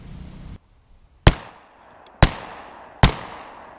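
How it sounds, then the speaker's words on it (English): A Remington 870 12-gauge shotgun loaded with 2 3/4-inch shells of number 6 lead birdshot fires three loud, sharp blasts at a car from 15 yards, each with a short ringing decay, evenly spaced about a second apart. "And I'll shoot from 15 yards"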